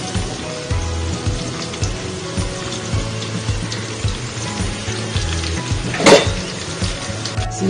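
Ingredients fry in a pan with a continuous, fairly loud sizzle and bubbling hiss, with one sharp clack of a utensil near the end.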